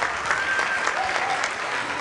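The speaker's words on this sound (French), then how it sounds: "On va applaudir pour manager." Steady audience applause from a crowd, continuous dense clapping throughout with no break.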